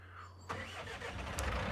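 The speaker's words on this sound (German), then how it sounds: "holen wir uns den Traktor schnell ab" A tractor engine cranks and catches in Farming Simulator 19, a brief starter burst followed by a steady mid-pitched idle rumble, close and alone without talk.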